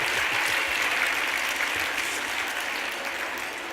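Loud, steady applause from a large crowd at a YWCA fundraising gala, sustained throughout and easing slightly toward the end, with no talk over it.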